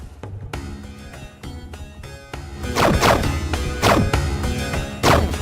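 Heavy blade strikes land in a FlyKnight video game as a sniper is beheaded, a series of loud whacks and crashing thuds over a steady game backdrop, with several sharp hits spaced a second or so apart.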